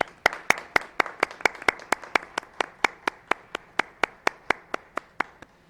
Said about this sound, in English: join me in a round of applause for your work